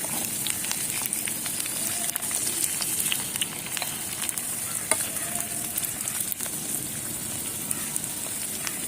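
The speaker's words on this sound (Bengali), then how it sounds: "আলুটাকে আমরা একটুখানি নেড়ে দেবো" Potatoes frying in a small toy pan during miniature cooking are stirred, giving a steady close sizzle with light scraping and stirring clicks throughout.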